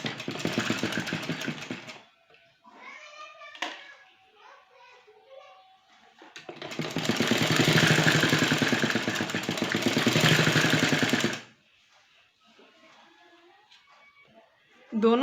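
A sewing machine stitches lace onto kurti sleeves in two loud, steady bursts of rapid mechanical whirring, separated by someone speaking calmly between runs.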